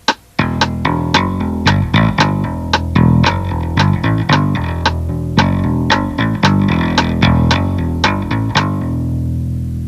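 Tapped bass guitar phrase of hammer-ons and pull-offs, the left hand pivoting on the neck, played against a steady metronome click; dense, loud rhythmic notes ringing continuously with sharp click accents throughout.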